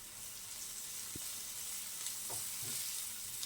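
Ginger paste stirred and fried in a pan for pepper chicken, with a continuous hiss of frying, occasional stirring scrapes, and a couple of soft knocks.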